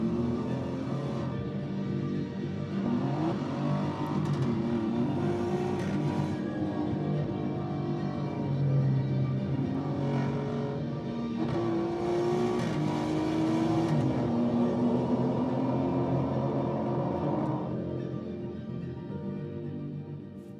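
An Alfa Romeo sports car engine played back from a promotional film, revving and accelerating through rising and falling pitch sweeps, moderately loud and sustained, with a possible pass-by before it fades toward the end.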